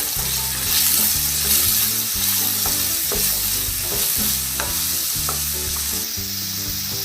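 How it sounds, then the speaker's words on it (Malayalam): Vegetables sautéed with garam masala in a pan for vegetable biryani, with a loud, steady sizzle and stirring throughout, heard alongside background music and no talking. "അര ടീസ്പൂൺ അളവിൽ ഗരം മസാലപ്പൊടിയും കൂടെ ചേർത്തിട്ടാണ് ഇതൊന്ന് വഴറ്റി കൊടുക്കുന്നത്"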